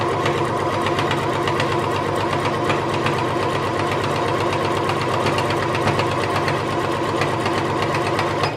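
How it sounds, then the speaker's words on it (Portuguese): A Singer HD 6805c sewing machine stitches through five layers of denim with a loud, continuous fast mechanical whirr and rapid needle knocking, running steadily and close throughout. "5 camadas de jeans pra gente ver como que a máquina reage"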